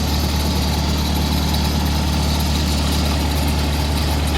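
A Lincoln SA-200 welder's engine idles steadily at close range, a loud, even low rumble with constant vibration and a faint rattle of nearby welding leads, no voices.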